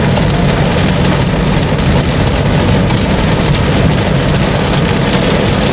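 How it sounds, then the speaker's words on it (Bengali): Heavy rain pounds on a car driving along Manik Mia Avenue in Dhaka, a loud, dense, unbroken drumming roar on the roof and windshield, with no talk. "অনেক বৃষ্টি হইতেছে।"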